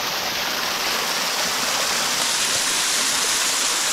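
A river rushes through a large borehole cave in a cliff, giving a loud, constant roar of flowing water that fills the space without pause or speech.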